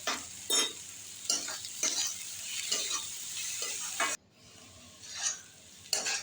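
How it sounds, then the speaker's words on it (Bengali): A spice mixture with salt and cumin powder frying in a pan and being stirred, with a soft steady sizzle broken by several sharp scraping strokes of a utensil, close and fairly quiet. "মশলাটা ভালো করে ভেজে নিয়েছি বন্ধুরা লাল করে।"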